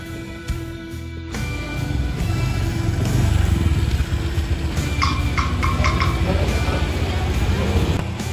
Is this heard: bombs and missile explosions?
no